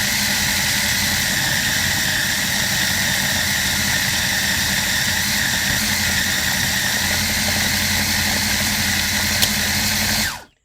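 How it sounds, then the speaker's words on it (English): A kitchen blender runs steadily at high speed, mixing a pink cheesecake parfait mixture. The loud, even motor roar lasts about ten seconds and then stops abruptly. "I'm going to make some noise and blend this"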